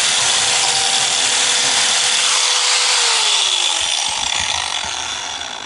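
A biscuit jointer plunges into a wooden board to cut a slot, a loud close whining buzz whose pitch drops partway through as the blade bites into the wood, then begins winding down.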